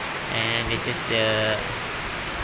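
Steady, calm rain falls as an even hiss throughout, with a person talking over it in the foreground.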